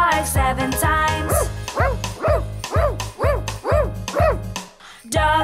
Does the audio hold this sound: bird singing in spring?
no